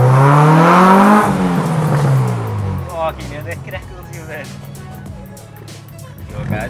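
Exhaust of a Honda Civic with VTEC revving loud and close, a strong rising engine note that falls away into rough crackling pops and rumble, with a voice talking over it.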